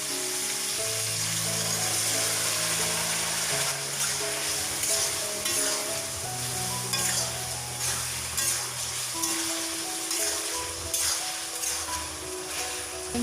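Tomatoes fry in a pan and are stirred, a steady close sizzle broken by scraping strokes, with background music running underneath throughout.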